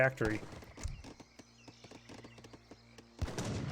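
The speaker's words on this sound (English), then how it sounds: "You hear quite a bit of wood being collected up, and this time it's by the French." Age of Empires 3 match with villagers chopping wood, a steady run of sharp rhythmic chops and clicks that carries on beneath game effects and a commentator's voice.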